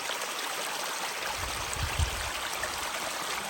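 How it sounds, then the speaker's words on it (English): Small waterfalls along a stream running down toward the ocean in Cape Chignecto Provincial Park, Nova Scotia, give a steady, full rushing and splashing wash with a slight low gurgle midway, constant and close, with no voices. "Little waterfalls all along the stream, going down to meet the ocean."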